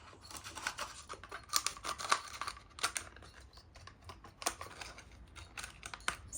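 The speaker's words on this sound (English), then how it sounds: "you just cut a channel out like that" Scissors snip a channel into a plastic cup used for air layering a bonsai, giving a quick run of close, crisp clipping and crinkling plastic noises with no talking.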